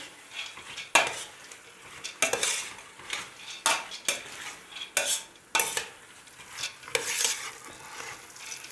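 Lentils being stirred in a pot for a Ramadan soup: a series of sharp scraping, clinking strokes of a utensil against the pot in an irregular rhythm, close and fairly loud, with no voices.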